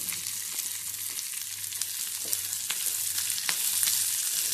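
Bell pepper being sautéed in a pan with onions, green chillies and curry leaves for Chettinad chickpea mandi: a steady, close sizzle and crackle of frying with occasional stirring scrapes, no talk.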